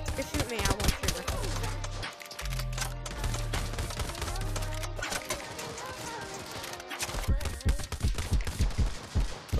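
Rapid bursts of gunfire from a video game crackle loudly throughout, with people talking over the shots.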